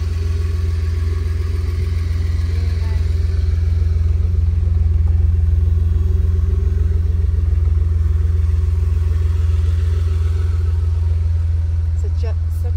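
A 1982 Mercedes-Benz 280SL with a 5-speed gearbox cruises along under a steady, low engine rumble and road noise that stays loud and even throughout.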